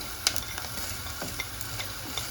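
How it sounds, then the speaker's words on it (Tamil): Garlic and onions fry in a pan for bitter gourd curry, a soft steady sizzle broken by a few scraping stirs and light clicks, with no voices. "வெங்காயம் இந்த பதத்தில் வதங்கி வர நாங்கள் இதுக்கு வந்து வெள்ளைப்பூடி சேர்க்க போகிறோம்"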